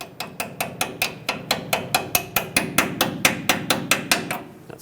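A brake hose clip is tapped into place on a 2008-2010 Ford F-250 Super Duty, a steady run of about twenty sharp metallic hammer taps at an even quick rhythm, close and loud, with no speech.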